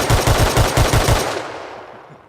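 An SKS rifle with an extended magazine fires a rapid burst of about seven loud, close shots in Rust Console, followed by a long fading echo tail.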